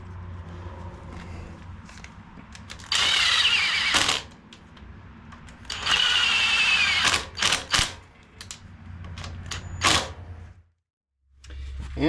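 Power tool driving two bolts to install a stator on a beat-up tractor, with several loud whirring bursts of a few seconds each, separated by quieter handling and clunks, then a brief near-silence.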